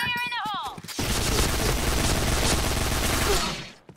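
A sustained, loud stream of rapid gunfire from Point Blank rattles on for about three seconds, following a brief rising electronic tone, with dense overlapping shots throughout.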